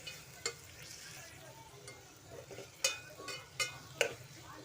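A few vegetables sautéed for veg biryani, with soft frying sizzle under scattered spoon scrapes and clinks against the pan, faint and irregular.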